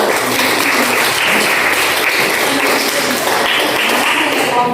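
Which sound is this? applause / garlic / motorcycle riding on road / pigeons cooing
applause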